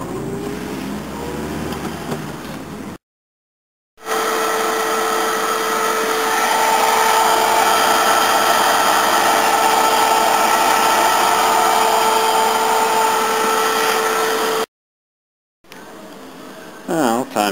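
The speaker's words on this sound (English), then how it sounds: "that was my compressor running" A car air-conditioning compressor runs to pull a vacuum on the system, a loud, steady mechanical drone with a constant whine that holds unbroken for about ten seconds between brief silent cuts, with a few seconds of other sound at each end.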